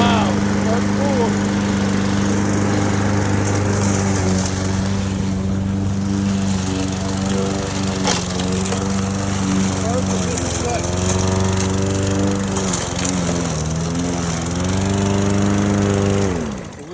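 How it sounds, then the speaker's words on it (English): Brand new Toro lawn mower cutting grass during a test cut, a loud steady engine drone close by with slight pitch dips as it works through the grass, people talking faintly over it. "Brand new lawnmower."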